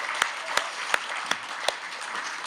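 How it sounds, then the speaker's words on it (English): Audience applause in a theater at a poetry event, a steady patter of clapping with a few sharp, louder claps standing out at regular intervals close by. "while we're applauding"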